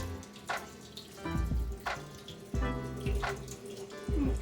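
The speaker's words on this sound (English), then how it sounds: "I'm running the egg under cold water, and I'm de-shelling the egg." Cold tap water runs steadily into a sink while an egg is peeled under the stream, with the splashing shifting in bursts as the hands move the egg through the flow.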